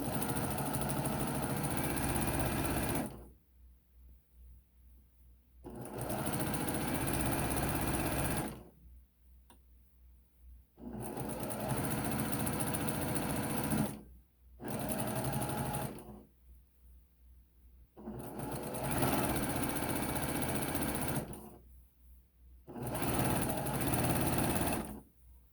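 A sewing machine stitches a hem in several loud, steady bursts of a few seconds each, starting with a back stitch, with short quiet pauses between runs and no talking.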